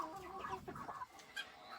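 A small flock of young chocolate and white chickens clucks and murmurs nearby, a busy cluster of overlapping calls giving way to a few sparser, sharper clucks.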